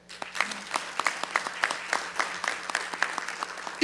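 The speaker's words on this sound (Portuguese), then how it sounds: "eu peço uma salva de palmas para o Brasil e para Israel" Short applause at the close of a formal solemn session honoring Brazil and Israel: sparse, distinct claps from a modest gathering, fairly close and spaced, with no talk over them.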